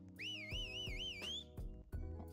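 A player's warbling whistle in a Roblox hide and seek game, a wavering melodic tone lasting over a second, close and clear above game music with percussive beats.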